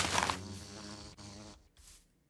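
Buzzing of bees in Minecraft, using a Vanilla Tweaks resource pack, a fairly loud continuous drone at first that thins out and fades toward the end.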